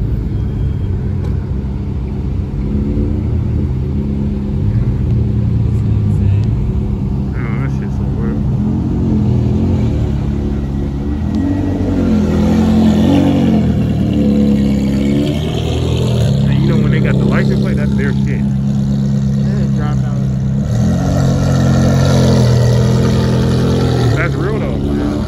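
Several cars rev and rumble at a car gathering, low engine drones rising and falling in loud, overlapping waves while people talk over them nearby.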